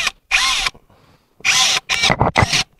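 A WOSAI 20V WS-MD13 brushless cordless drill whirs in three short bursts, briefly spun up and stopped while a carbide-tipped bit is set in the chuck, with a quiet pause between.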